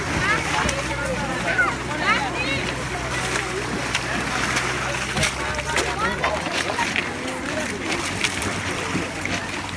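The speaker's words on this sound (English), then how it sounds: "A boat just arrived." A refugee boat arrives off the coast of Lesvos near Sikamineas, with splashing water, a low motor hum that cuts out partway, and excited voices and commotion over the waves.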